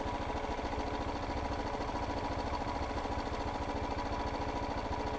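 KTM motorcycle engine idling in a workshop during gear calibration, a steady, close, fast-pulsing mechanical putter at an even level throughout.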